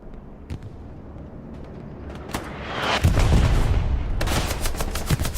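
In the game Hell Let Loose, a bomb run pounds the map border with distant rumbling booms building into a dense roll of explosions and crackling blasts, alone without talk.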